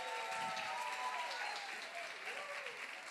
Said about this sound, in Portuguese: Dê uma salva de palmas para a nossa diretora.